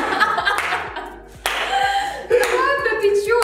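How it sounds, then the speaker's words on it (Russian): At a music quiz show, several bursts of hand clapping and slapping come in quick sharp rounds, mixed with laughter and people talking. "Хлопки, хлопки, пожалуйста."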